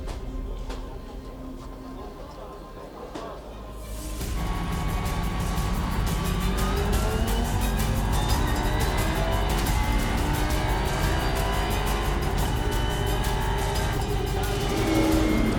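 Race cars at the rolling start of the 24 Hours of Spa on a wet, rainy circuit: a dense engine roar swells from a muffled rumble into a loud, sustained blare of revving cars passing close by.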